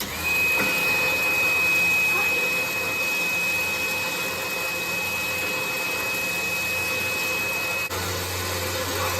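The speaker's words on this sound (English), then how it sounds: "get my wife come out here and help me spool some of this line up" An electric winch on a 2021 Can-Am XMR 850 spools synthetic rope onto its drum, a continuous loud motor whine and hum with a steady high tone that holds for about eight seconds before easing.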